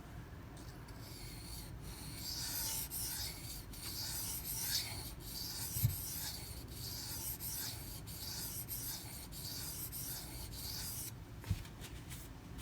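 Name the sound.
sharpening a knife blade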